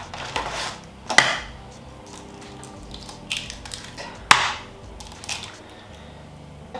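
Two sharp, close cracks about three seconds apart as eggs are broken for a sticky toffee pudding batter, with faint kitchen rustle between them and no talking.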